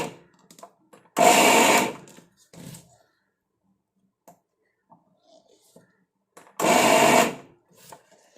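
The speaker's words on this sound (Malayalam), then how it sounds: "ഇതൊന്ന് മിക്സിയിലൊന്ന് കറക്കിയെടുക്കാം" A mixer grinder pulses lentils for parippu vada in two short, loud, whirring bursts about five seconds apart, with quiet kitchen clatter and faint sounds between them.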